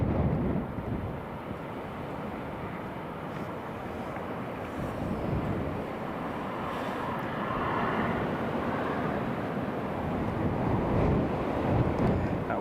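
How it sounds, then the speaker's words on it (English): Strong blustery wind buffets and roars across an open airport setting, a broad, continuous rush that swells slightly over time, with a distant aircraft drone blended underneath. "That wind is picking up now, getting quite blustery."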